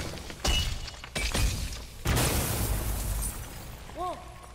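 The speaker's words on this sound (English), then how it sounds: "A little glass bomb, because kaboom." A glass bomb bursts in the God of War video game, giving a loud crash of breaking glass followed by boom-like bursts and rumbling debris, with a short tonal chime near the end.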